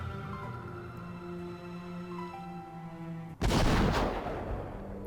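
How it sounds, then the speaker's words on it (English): A single heavy cannon boom from the video game Hakuoki: Kyoto Winds bursts out over sustained droning music and rumbles on for a moment. "Cannons pounded the Fushimi magistrate's office, and the ground shook with each impact."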